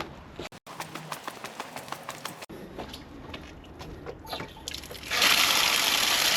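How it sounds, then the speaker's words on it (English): A household water supply is turned back on after a plumber's tap repair. Several seconds of light clicking and knocking give way to a sudden, loud, steady hiss of rushing water that continues to the end. "There we go, water back on."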